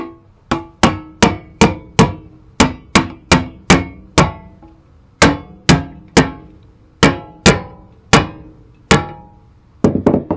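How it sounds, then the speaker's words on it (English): A hammer knocks a part down with sharp metallic strikes in a fast irregular series, some in quick pairs, loud and close with brief ringing after each blow. "let me get a hammer real quick and knock that down"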